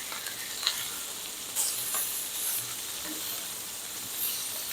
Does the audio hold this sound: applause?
no